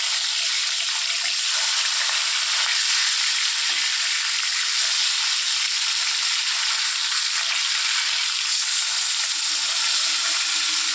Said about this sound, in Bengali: এক পিঠ ভালো করে ভাজা হয়ে গেলে মাছটা উল্টে দেবে।